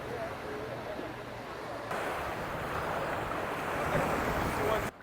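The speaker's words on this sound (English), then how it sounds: "A very choppy day out here on the ocean" Choppy ocean surf at an Algarve beach, a steady broad roar of waves mixed with wind buffeting the microphone, loud and continuous, swelling slightly toward the end.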